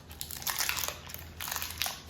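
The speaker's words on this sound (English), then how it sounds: "You pull the paper off" Baking paper peeled off a freshly baked loaf of bread, heard as close crinkling and crackling in two short bursts, faint and with no one speaking.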